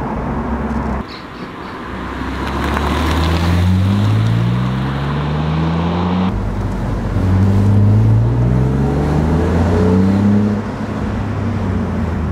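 A BMW Z3 engine revs hard through several rising sweeps, loud and close, giving a deep, raspy roar that drops back between pulls.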